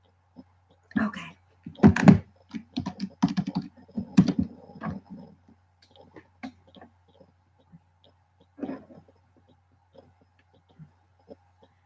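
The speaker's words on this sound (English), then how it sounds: "there's something wrong with this keyboard" Typing on a computer keyboard that seems faulty, with bursts of quick close key clicks at first, then sparse single taps with long quiet gaps in a quiet room.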